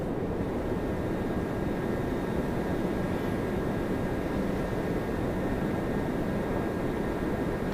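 An Airbus A321neo airliner at Toronto Pearson gives off a steady, broadband engine roar that stays even and fairly loud throughout, with no voices.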